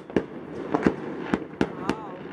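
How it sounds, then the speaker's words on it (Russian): New Year fireworks burst in a rapid series of sharp cracks and booms over a Gelendzhik neighbourhood, six or so loud reports in quick succession, heard from a distance with ambient outdoor noise. "Там еще никто не живет, но там уже салюты во всем."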